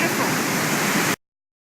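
Rushing waterfall in the Rockies, a steady broadband roar of cold water pouring over rocks, loud and close, cutting off abruptly.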